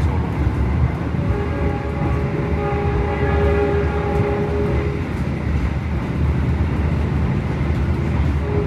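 A Bangunkarta passenger train passes with a steady loud rumble of wheels and carriages. A sustained horn tone rises over the noise for a few seconds midway, heard from a nearby train in motion.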